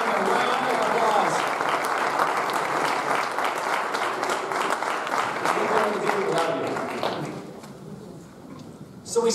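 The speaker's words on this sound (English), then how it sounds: "Give them a round of applause." An audience at a PRiMA anniversary cabaret applauds board members, sustained clapping mixed with cheers and talk that thins out toward the end, followed by a brief close knock.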